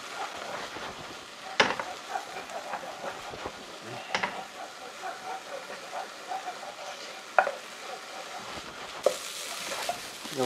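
Onions being stir-fried in a pan for hamburg steak, a steady close sizzle with scraping stir strokes and a few sharper clacks of the utensil against the pan.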